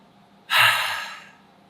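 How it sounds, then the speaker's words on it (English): A single deep breath, a sudden close airy exhale that starts sharply and tapers off over about a second. "that's me taking a deep breath"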